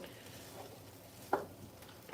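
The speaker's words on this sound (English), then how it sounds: "So we're just breaking it up into the pan, letting it get a little warm." Cold, previously frozen cooked rice is broken up and stirred in a frying pan to warm it for shrimp fried rice, faint low sizzling with a couple of distinct scrapes of the utensil.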